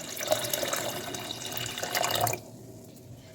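Fresh water runs from a tap onto semolina soaking in a container, a steady close splashing pour for about two seconds that then stops abruptly, leaving a quiet room.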